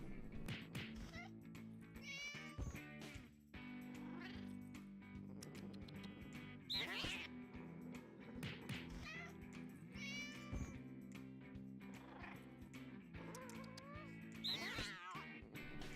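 A cat meows several times in the video game No More Heroes 2, short repeated calls spread across the clip over layered game music and sound effects.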